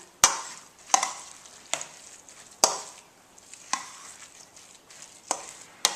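Apple pie filling is stirred together with applesauce in a bowl, producing a series of irregular wet knocks and scrapes, close and moderately loud, with quiet gaps between strokes.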